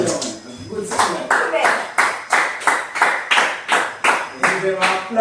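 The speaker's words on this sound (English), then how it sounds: "Give them a clap for that." Group clapping in slow unison, about a dozen loud, evenly spaced claps roughly every half second, with voices talking underneath.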